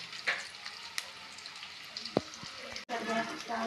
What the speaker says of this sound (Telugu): ఇవి మంచిగా దోరగా వచ్చేలా వేయించుకోవాలి